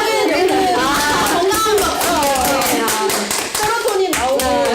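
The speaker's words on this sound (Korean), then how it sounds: "여기 박수" A small group clapping hands in an indoor talk setting, a quick burst of claps mixed with laughter and overlapping voices.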